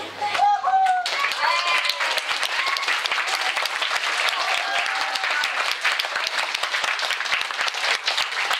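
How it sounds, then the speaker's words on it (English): An audience at a science fair keynote breaks into sustained applause, dense and loud clapping from many hands lasting throughout, after a brief moment of other sound at the very start. "can I just invite you one more time with a round of applause for Hub?"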